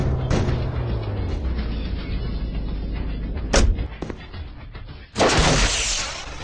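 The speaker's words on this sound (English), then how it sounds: "isn't that the Half-Life sound effect?" A Half-Life sound effect plays in a mobile game, with a sustained noisy rumble, a sharp blast near the middle, and a louder burst toward the end. No talking is heard.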